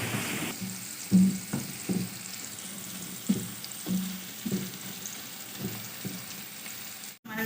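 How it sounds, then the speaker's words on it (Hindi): Onions fry in melted beef fat and ghee for a beef pulao, a soft steady sizzle broken by several low clattering stirs and scrapes in the pot, heard close and without talk. "ये चर्बी हमारी पिघल रही है, और हम प्याज डालेंगे"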